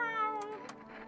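Cat in the No I'm Not A Human video game gives a single short, clear meow, close and moderately loud, with no one speaking.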